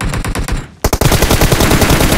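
Automatic gunfire in PUBG Mobile rattles out in rapid, loud bursts, a brief pause breaking the sustained fire before a second fast, continuous volley.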